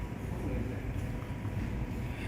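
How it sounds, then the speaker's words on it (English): A metro train pulls into the Seoul Station platform, its steady low rumble filling the underground space at moderate, even loudness. "The train is coming."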